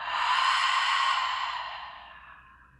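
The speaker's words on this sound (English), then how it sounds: "Inhale. Exhale it all out." One long, deep exhalation during a guided breathing exercise, a smooth breathy rush that starts full and gradually fades out to silence.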